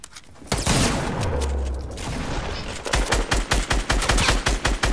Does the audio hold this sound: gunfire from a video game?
yes